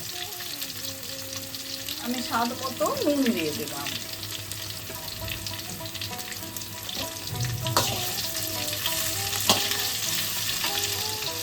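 Mixed vegetables, including drumsticks, potato, eggplant, green banana, papaya and radish, keep sizzling in a frying pan, a steady crackle with stirring knocks and scrapes while a person speaks briefly over it.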